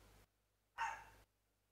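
A puppy indoors gives a single short yelping bark, faint and brief, between stretches of quiet room hum while people work on the house.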